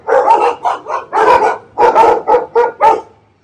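A small pack of puppies yaps in a quick run of about ten sharp, close barks in short bursts, loud and without any speech.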